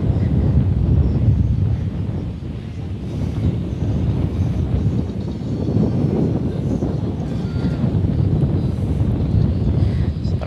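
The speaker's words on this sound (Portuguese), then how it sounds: "Guarda-sol aqui para dar uma segurada no vento, que tá ventando demais." Strong wind sweeps across Tamandaré beach in Pernambuco, a continuous low rumbling roar pressing on the microphone with gusty swells.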